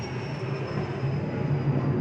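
A train passes near a house, heard as a steady low rumble and rolling rail noise that swells slightly toward the end, continuous and without voices.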